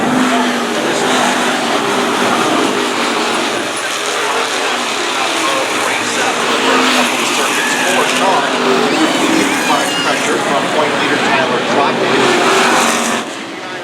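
Race cars roar down the back straightaway at Stafford Speedway during the 2024 Spear Bros Kids Night, a loud, continuous engine drone that swells and fades slightly as the pack passes, with a commentator talking over it.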